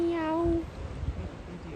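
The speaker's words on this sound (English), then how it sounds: "These are the ocean cats." A single short, high meow, close and clear, followed by faint background rustle.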